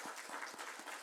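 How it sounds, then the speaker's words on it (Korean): A church congregation breaks into applause, steady rhythmic clapping from many hands sustained throughout, moderately loud and without speech. "하나님께 영광의 박수를 한번 올립시다."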